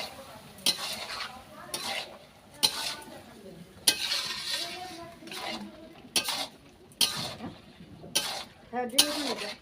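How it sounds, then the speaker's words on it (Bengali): Potatoes and boiled peas for ghugni are sautéed in a pan, with repeated sharp scraping stirs and clanks over a steady low sizzle, close and fairly loud, no talking. "আলু দিয়ে দিচ্ছি, এবার সেদ্ধ করা মটরটা দিয়ে দিলাম। এটাকে ভালো করে এবার কষিয়ে নেব।"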